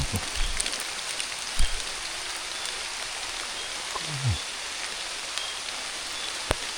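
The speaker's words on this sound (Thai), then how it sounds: "แต่ฝนตกเรื่องนี้ฝนหนักเลย" Heavy rain hisses steadily with a dense, even wash of sound, broken by a few low thuds and faint clicks.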